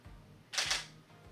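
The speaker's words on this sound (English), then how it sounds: "So now I'm gonna take a picture" A single crisp mechanical shutter click from a camera taking a picture, close and fairly quiet, with brief low room noise around it.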